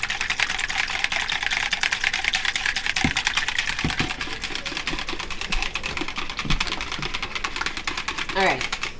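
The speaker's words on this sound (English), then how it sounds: "So now we're going to whisk together these ingredients." Muffin batter ingredients for cranberry muffins are whisked in a bowl with an oversized whisk, giving a rapid, continuous rhythmic clicking and scraping that runs throughout with occasional brief knocks.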